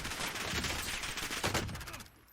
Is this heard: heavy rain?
no